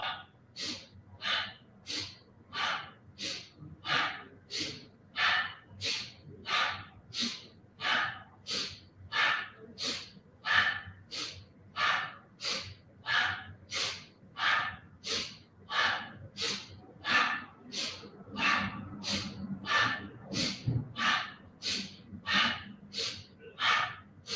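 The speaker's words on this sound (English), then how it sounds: "see if you can move with a nice powerful breath" Powerful rhythmic breathing during a beginners yoga session, steady forceful breaths repeating about every second and a half for over twenty seconds, close and even, with a faint low murmur underneath.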